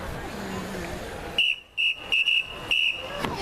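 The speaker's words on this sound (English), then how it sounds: "I will now blow the whistle of power." A hand-held whistle is blown in short, shrill bursts indoors, four sharp blasts in quick succession after a stretch of quiet room noise.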